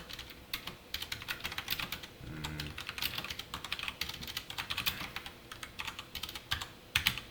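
Code is typed on a computer keyboard in a quick, uneven run of close, crisp key clicks with short pauses between bursts, and no talking over it.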